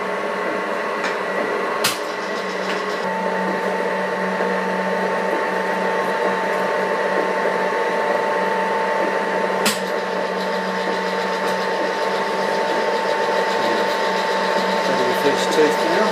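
A Harrison milling machine cutting gear teeth with cutting oil, a steady close whine and hum from the running cutter, with a couple of sharp metallic clicks along the way.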